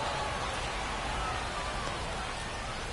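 Steady rain falls on a baseball field in MLB The Show 25, a dense, even hiss of drops on the surface that holds constant throughout with no breaks.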